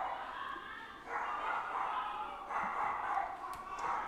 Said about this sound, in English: And there goes the dogs. Dog's going to freak out in a second.